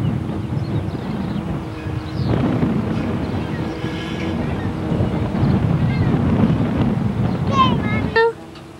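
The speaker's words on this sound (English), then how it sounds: "Windy too." Gusty wind on a cold day in Laramie, Wyoming, rumbles in a steady low roar for several seconds, with voices talking over it, then drops away abruptly near the end.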